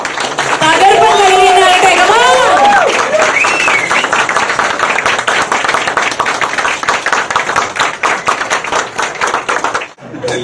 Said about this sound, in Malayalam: നിങ്ങൾ എല്ലാവരും നല്ല കൈയടി കൊടുക്കുകയാണെങ്കിൽ ഞാനിപ്പോ ബിജുവിനെ ഇൻവൈറ്റ് ചെയ്യണം